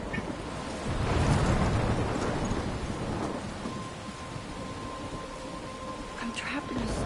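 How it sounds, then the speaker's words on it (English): Thunderstorm in the game Life Is Strange, with rumbling thunder swelling early and steady rain hiss throughout, fairly loud and continuous, joined late by a faint sustained tone. "I'm trapped in a storm?"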